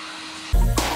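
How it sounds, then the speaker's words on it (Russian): A vacuum cleaner kicks on abruptly halfway through, a loud close roaring whoosh as it runs across the headliner of a VW Golf CL ceiling, with a rising hiss as the nozzle moves. "И вот так вот пылесосим по всей площади этого потолка."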